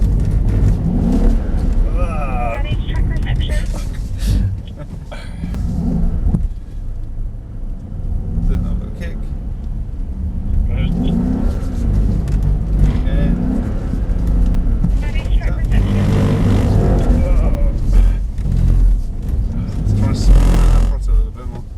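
Mercedes-AMG SL63 lapping a race track, its engine rumbling and rising under steady throttle from inside the cabin while people talk over it throughout.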